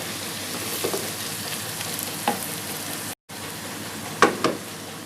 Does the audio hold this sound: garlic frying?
yes